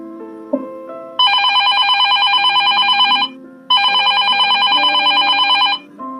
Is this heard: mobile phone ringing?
yes